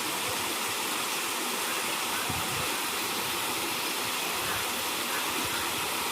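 An irrigation pump motor sends water pouring over a groundnut field, producing a loud, continuous rushing stream that stays constant throughout, with no talking.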